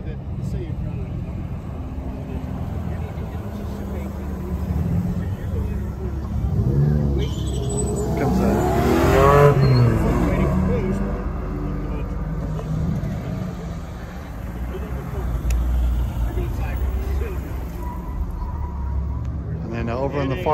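Porsche cars running a performance driving-school course at a distance, a steady low engine rumble with a swell of revving midway, under someone talking.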